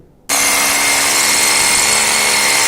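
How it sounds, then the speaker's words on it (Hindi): A power drill bores a hole 4 to 5 inches deep into a concrete structure for fixing a steel rebar, starting abruptly after a brief quiet and then running as a loud, continuous, steady whine close by. "ड्रिलिंग करते टाइम जो पॉइंट ध्यान में रखना है वो ये कि हमारा ड्रिलिंग 4 to 5 इंच डीप होना चाहिए"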